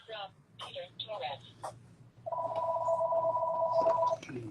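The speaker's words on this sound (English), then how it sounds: "All right, and phone's ringing." A telephone rings with a steady electronic tone lasting nearly two seconds, nearby and fairly loud, right after someone speaks in a quiet room.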